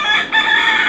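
Five Manila duck chicks at Selaiyur, Chennai, peep in a steady, close, high-pitched chorus of overlapping calls that runs without a break.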